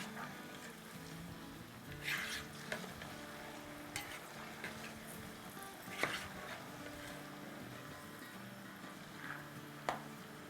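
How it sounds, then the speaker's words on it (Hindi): Potato pieces for French fries fry in hot oil in a faint, steady sizzle, with occasional soft clinks and stirring knocks over the quiet bubbling. "ये जो फर्स्ट दफ़ा हम फ्राई करेंगे वो आलू को पकाने के लिए फ्राई करेंगे।"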